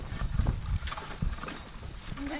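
A team of Belgian draft horses hitching up at a horse pull makes heavy clip-clopping hooves with rattling harness and chain, uneven and close by, while people talk faintly in the background.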